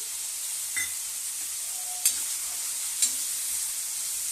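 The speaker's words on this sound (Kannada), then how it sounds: "ಈರುಳ್ಳಿ ಫ್ರೈ ಆಗ್ಬೇಕು ರೀ ಚೆನ್ನಾಗೆ" Onions fry in a pan for ridge gourd chutney with a steady soft sizzle, broken by a couple of faint utensil taps.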